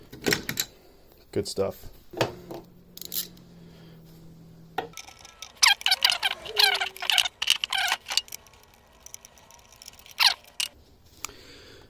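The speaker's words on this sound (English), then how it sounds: "I'll be using a Westward. I've had this trusty ratchet for, 20 odd years." A Westward ratchet wrench, used for about twenty years on a GM Ecotec throttle body job, clicks in rapid bursts of sharp, close ticks, with a short spoken remark at the end.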